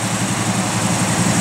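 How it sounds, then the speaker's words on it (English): A 1973 Plymouth Road Runner with a pump-gas V8 runs steadily and close by, a deep throbbing engine with a lumpy idle that holds a fairly even level through the short stretch rather than climbing sharply. "Give it a little rev. Perfect. That sounds good, man. Pump gas engine"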